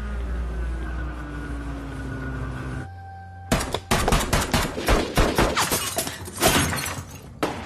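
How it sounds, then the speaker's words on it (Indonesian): Film gunfight with rapid bursts of gunfire and sharp shots crackling after a moment of steady ambient hum and tone, loud and close, with no speech. "sehingga baku tembak pun terjadi cukup sengit"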